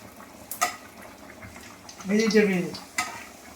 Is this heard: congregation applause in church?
no